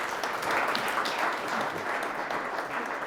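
Brief round of applause from an audience at a budget talk, a short steady wash of clapping at moderate loudness with no voices over it.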